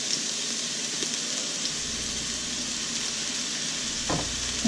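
Zucchini noodles sizzle steadily in a large skillet, a constant bright hiss with a few soft clinks and stirring scrapes, no talking.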